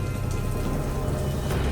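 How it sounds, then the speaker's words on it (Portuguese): Heavy rain pours down steadily on a city street at night, a dense, continuous wash of close, loud drops with no voices and no break in the downpour. "estava chovendo bastante, dificultando demais a visão da rua"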